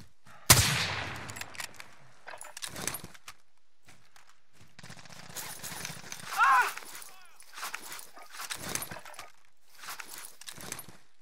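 Gunfire in a military video game while under fire: a sharp loud shot at the start, then scattered distant shots and bursts with quieter gaps, mixed with game noise.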